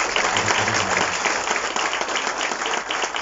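An audience applauds steadily for a recycling project team at a ceremony in Mauritius, dense continuous clapping that stays loud and even from start to finish.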